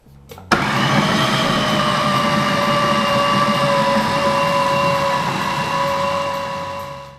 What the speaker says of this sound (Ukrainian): Перекладаємо нашу печінку з овочами до кухонного комбайну, або, якщо у вас немає комбайну, можете використати блендер, та розмолюємо усе до однородної консистенції.